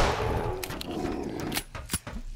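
Hand cannon gunshots in the Killing Floor (2009) video game, a burst of loud sharp cracks at the start followed by several separate booming shots with brief gaps.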